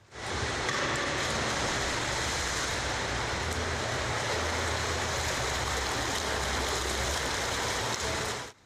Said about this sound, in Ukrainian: він встає у стійку і ефектно виконує стрибок у воду